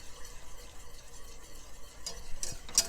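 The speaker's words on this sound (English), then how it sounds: "So let me put a little at a time and get ready to whisk as I'm putting it in." Keto cheese sauce being whisked in an even-heating pan as small cheese clumps go in a little at a time; faint, soft stirring scrapes build to a few brighter clinks near the end, with no talking.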